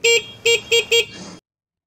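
Four short, shrill beeps in quick succession from a Morbidelli SC150 motorcycle horn, close and loud, followed by silence.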